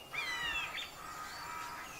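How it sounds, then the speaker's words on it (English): Morning birdsong in woodland beside a rooftop-tent campsite, a few thin chirps and whistles rising over soft, steady ambient hiss, moderately distant and fairly quiet. "Listening to the birds"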